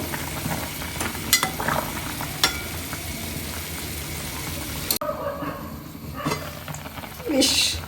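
Gulab jamun made with powdered milk simmer and puff up in sugar syrup on a stove, a continuous close bubbling sizzle with a few sharp stirring clicks and a brief thump, and a voice is heard.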